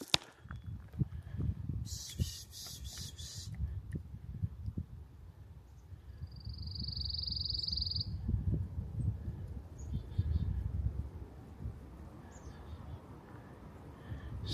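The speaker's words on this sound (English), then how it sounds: "that second noise you heard was a pine warbler" Soft pishing hisses on a West Virginia woodland trail toward Cranny Crow Overlook, followed by a high, brief trilled pine warbler song, faint against footsteps and light rustling outdoors.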